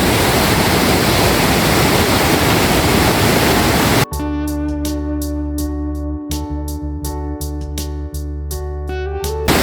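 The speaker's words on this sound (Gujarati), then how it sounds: "પાણીના અવાજમાં કાંઈ સંભળાય નહીં" A waterfall stream in Kerala rushes loudly in a dense, steady roar for about four seconds, then cuts abruptly to music.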